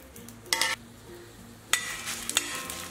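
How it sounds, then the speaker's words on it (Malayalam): Dry red chillies frying in oil in an iron pan, with a soft background sizzle broken by two or three brief scraping stirs of a spoon against the metal. "ഈ വറ്റൽ മുളക് ഇതിലേക്ക് ഇട്ടിട്ട് ഇളക്കി കൊടുക്കാം."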